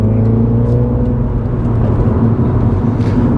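A car engine revs up steadily under acceleration, a dense, continuous drone with strong low harmonics that holds loud and close for the whole stretch, with no voices over it.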